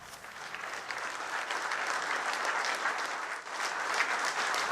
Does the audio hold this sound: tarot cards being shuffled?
no